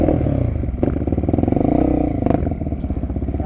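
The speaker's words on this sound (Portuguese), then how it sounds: "moto arrancou aqui." Honda XR250 Tornado trail motorcycle pulling away on a hillside dirt trail, its engine loud and close, revving in uneven surges with a rattly, throbbing exhaust note throughout.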